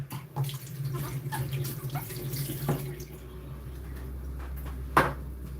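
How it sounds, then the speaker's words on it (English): Tin cans from the supermarket are washed under a running kitchen tap, a steady splashing stream of water with occasional clinks of metal against the sink, close and continuous. "When I buy these tin stuff from the supermarket, I like to wash them before I cut them open."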